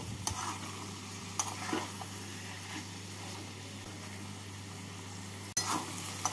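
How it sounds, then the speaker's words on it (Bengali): Snake gourd frying with scrambled egg in a pan, the soft sizzle running steadily under repeated scraping stirs of a spatula, with a low steady hum beneath and no talk. "স্ক্রাম্বলটা দিয়ে ভালো করে মিশিয়ে নিলাম, এবার আরও 2 থেকে 3 মিনিট ভেজে নেব"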